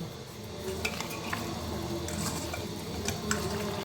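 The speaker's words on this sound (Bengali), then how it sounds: "এখন পরিমাণ মতো তেল দিয়ে মাংসটা মেখে নেব।" Raw chicken being mixed by hand with oil, salt and broken green chilies in a bowl, a steady wet squelching and stirring with faint clinks of the dish, close and continuous.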